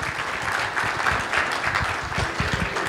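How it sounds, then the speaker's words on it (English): Audience members at a club annual general meeting applaud, a continuous even round of clapping from many hands in a room, moderately loud, with a faint voice or two beneath it. "Big round of applause, please."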